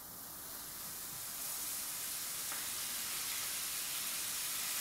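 Chicken pieces salted and frying in a skillet, a steady broadband sizzle and hiss that builds slightly and then holds, close and with no talking.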